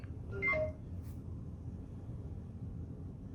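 Neato Botvac D3 Connected robot vacuum gives a short rising sequence of beeping tones on start-up, followed by a brief click, then a low steady hum.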